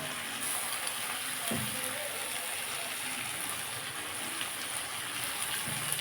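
Cabbage hits a hot pan of fish head, eggplant and tomato being fried Bengali-style, giving a steady close sizzle and hiss that holds evenly throughout, with no talking.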